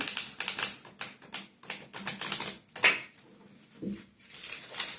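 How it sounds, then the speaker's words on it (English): A deck of cards being shuffled gives a rapid run of crisp flicking clicks in bursts, fairly close and faint, with no talk. "I'm just going to do one more shuffle here"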